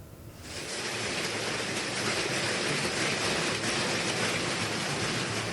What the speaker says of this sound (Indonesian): hujan es sebesar kerikil berjatuhan dari langit